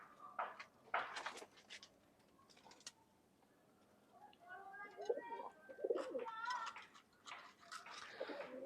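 Large old-bloodline pigeons cooing softly in a loft in Khulna, Bangladesh, with scattered low coos and some sharper calls among faint thumps and rustling, while someone talks quietly nearby.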